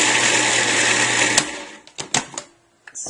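Food processor whirring steadily as it grinds oat groats, a loud continuous motor drone that cuts off abruptly, followed by a few short bursts of pulsing and clatter.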